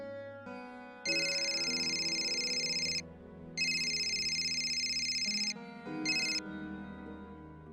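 In a Hindi TV drama scene, a mobile phone rings loudly and close with a bright electronic melodic ringtone, playing several repeated bursts with short pauses between them.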